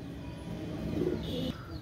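Pakistani Rampuri pigeons cooing in low, murmuring phrases, close by and fairly soft, with a steady background hum and no talking.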